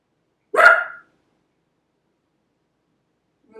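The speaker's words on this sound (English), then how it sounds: "Excuse my dog barking." A dog barks once indoors during a quiet beginner yoga session, a single sharp, close bark followed by silence and a faint trailing sound at the end.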